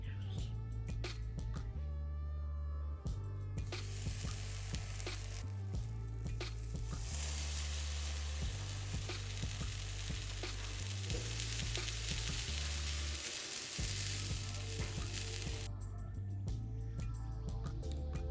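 A birria grilled cheese toasts in a pan with a steady, loud sizzle throughout, while a low background hum and a voice talking run underneath.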